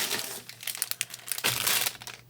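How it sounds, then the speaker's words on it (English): Plastic packaging crinkling while items are pulled from a large haul box, a quick burst of close, sharp crackles followed by a longer rustle, with no talking. "You'll have to pardon the crinkles, because they've got things packaged up nicely."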